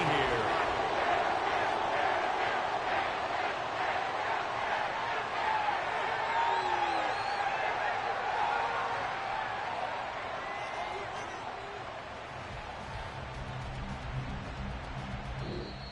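Football stadium crowd at the end of a game, a broad sustained roar and murmur of many voices with scattered whoops, under a commentator talking over it, easing somewhat toward the end.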